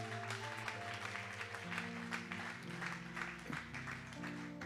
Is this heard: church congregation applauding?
yes